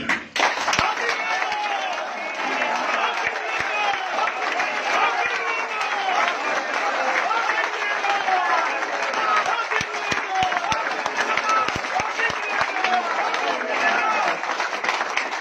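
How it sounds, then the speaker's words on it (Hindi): A large audience at a motivational gathering claps and cheers for a sustained stretch, with dense clapping and loud crowd voices and chanting mixed throughout. "उन सभी के लिए ऐसी तालियां बजा दीजिए आप"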